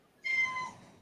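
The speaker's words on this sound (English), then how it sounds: "I hear a cat." A single cat meow, fairly close and clear, rising then trailing off, with quiet background and no talking.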